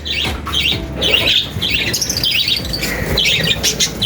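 Pet parrots kept in a home flock alongside goats and hens squawk and chirp repeatedly over a few seconds. The calls are close and fairly loud, and no one speaks.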